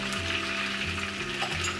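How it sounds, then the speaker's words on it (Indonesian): Beef sizzling steadily in hot oil in a wok for a stir fry, a constant close-up frying hiss with a low hum beneath, no talking. "Kita goreng ini jangan terlalu lama."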